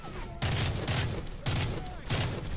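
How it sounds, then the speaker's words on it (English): Rapid bursts of gunfire from a Call of Duty Modern Warfare 3 firefight on veteran difficulty, several loud volleys in quick succession with brief gaps between them, mixed with battlefield noise. "I like the sound of the weapon mix in this game"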